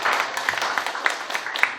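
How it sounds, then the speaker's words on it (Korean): Lecture audience applauding at the close of a talk on politics at a political school session, with a steady, moderately loud patter of clapping and a few sharper individual claps standing out. "오늘 이강을 열심히 강의해주신 장석준 소장님께 다시 한번 큰 박수 부탁드립니다."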